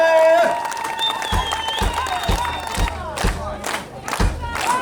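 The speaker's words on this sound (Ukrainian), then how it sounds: "Ваші оплески!" A large crowd cheers, shouts and claps loudly, with music and voices mixed in throughout.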